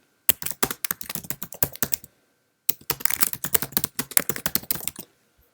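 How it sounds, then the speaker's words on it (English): Rapid, crisp keystrokes on a Mac keyboard while typing into a Word document, in two quick bursts separated by a short pause, clicking fairly close and alone with no talk. "Let's just type something."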